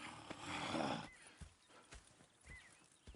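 Horses in Red Dead Redemption 2 whinny loudly up close, then their hooves clop at a slow walk in separate soft steps. No one speaks.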